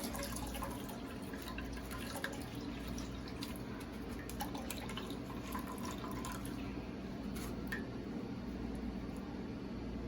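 Coconut milk being squeezed by hand from grated coconut through a strainer into a pot, a steady wet dripping and trickling of liquid running close by throughout, with no talking.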